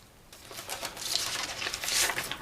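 Plastic and cardboard packaging of a Matrix Reloaded Morpheus action figure crinkles and tears close by, building from faint rustling into louder bursts of ripping.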